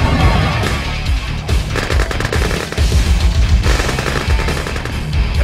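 Rapid, continuous unit gunfire from Red Alert 2: Yuri's Revenge, loud and dense machine-gun-like bursts throughout with brief dips, no talk over it.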